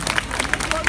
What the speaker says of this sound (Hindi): एक बार हर्ष की तालियों से पुनः स्वागत अभिनंदन स्वामी श्री दीपांकर जी महाराज का